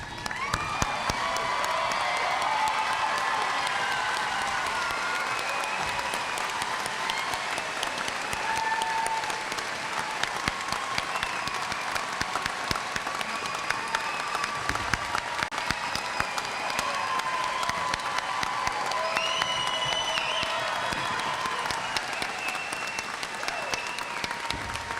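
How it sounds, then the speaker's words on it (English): A large graduation ceremony audience applauds the graduates with sustained clapping and scattered cheers and whoops, a steady crowd roar that continues for the whole stretch without any clear talk. "let us all stand and applaud the graduates"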